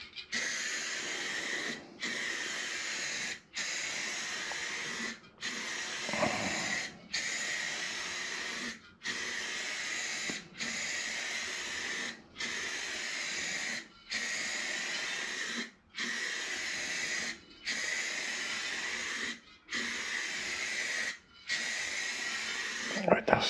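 Repeated bursts of aerosol spray paint hissing onto a radiator, about a dozen evenly spaced squirts with short pauses between them, close and steady.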